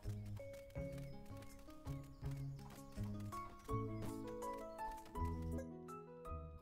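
Rhythmic hoof clip-clops of a horse in a video game (Super Fantasy Kingdom) over a looping musical backdrop, walking at a steady pace.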